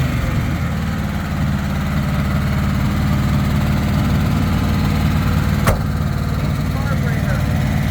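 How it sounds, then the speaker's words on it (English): A boat engine with a Holley carburetor, fitted in a Bronco, idles high as a loud, steady, close rumble throughout, with a person talking over it. "The idle on it is very high. It's got a Holley carburetor"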